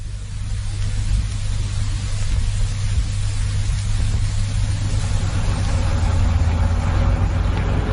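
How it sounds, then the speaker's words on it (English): A car driving through road traffic, heard as a steady, close, low engine rumble and road noise that runs without a break. "My Timothy, this traffic really is appalling."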